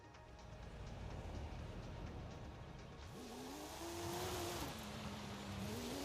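Porsche engine driving in the Forza racing game, a steady broadband drone that steps up around the middle into a rising, wavering rev tone that holds, then dips slightly, with no talk.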